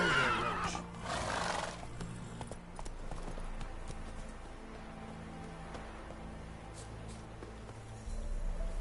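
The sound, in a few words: Geralt's horse Roach neighing in the video game Witcher 3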